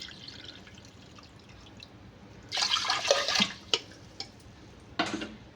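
A cup of water is poured into rice and coconut milk for coconut rice: a splashy pour of about a second, followed by a few short drips and splashes, fairly close against a quiet room.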